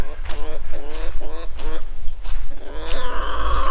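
A hen clucks loudly and close by in quick repeated squawks, followed by a longer drawn-out call, with farmyard noise in the background.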